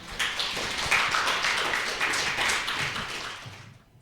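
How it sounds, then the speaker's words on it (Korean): Warm applause in a church hall after a speaker's introduction at an Ash Wednesday Mass, a steady dense patter of many hands clapping that carries on for several seconds before slowly fading away. "따뜻한 박수로 맞이해 주십시오."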